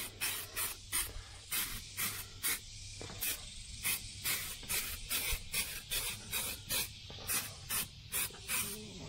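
Short bursts of spray paint hiss onto a 1994 GMC Stepside pickup truck panel, a regular rhythm of about two dozen close, sharp sprays with brief pauses between them.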